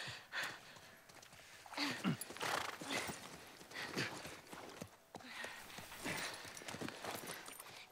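Horse hooves in the video game The Last of Us Part 1: a steady clip-clop of hoofbeats with occasional snorts, fairly faint, continuing throughout without talk.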